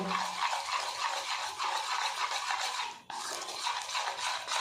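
Eno powder being mixed with a few drops of water in a bowl, a continuous close scraping and swishing stir with a brief pause partway through.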